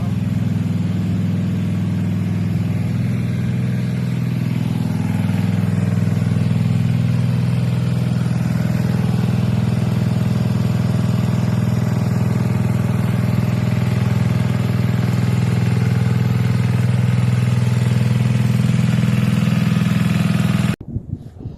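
A pool vacuum's electric motor runs steadily beside a swimming pool, a loud continuous low hum and rattle that holds for about twenty seconds before cutting off abruptly near the end.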